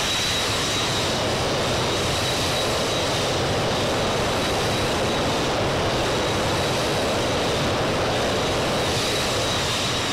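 Boeing 737-200 jet engines in the X-Plane flight simulator, a steady broadband roar with a thin high whine, constant and loud throughout, no voices.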